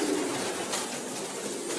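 A racing pigeon coos softly in a low, continuous murmur that stays steady and close. Faint background hiss runs under it, and nobody talks.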